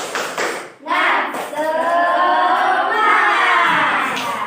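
A group claps together in a quick rhythmic pattern while children's voices shout and chant over it, loud and close.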